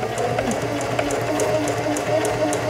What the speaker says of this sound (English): Release the reverse lever and sew down the seam